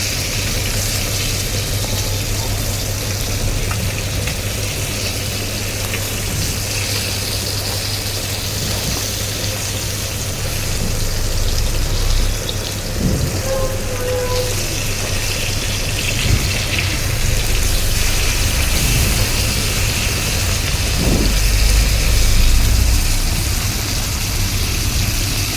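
Fish pieces frying in hot oil in a kadai for a Bengali bata fish curry with potato and eggplant, a steady loud sizzling hiss with crackles throughout, no talking.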